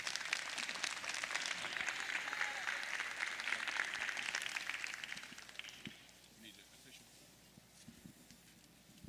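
Audience applause fills a livestock show arena after a class of lightweight steers at an FFA steer and heifer show, a dense steady clapping that tapers off and fades to quieter scattered claps near the end.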